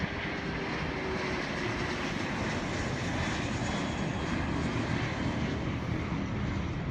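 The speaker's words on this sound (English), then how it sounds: "this is a compressor stall" An aircraft jet engine suffering a compressor stall, heard as a loud, steady broadband engine roar that fills the clip without a break, with no voices.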